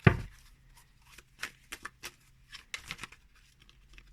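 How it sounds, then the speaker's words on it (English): Cirque du Tarot cards being shuffled by hand, a series of short papery riffles and soft flicks in irregular bursts, close and fairly quiet, with no talking. "So let me go and shuffle."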